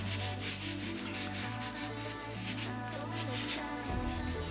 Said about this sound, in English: a few quick sprays, and then just give it a good wipe down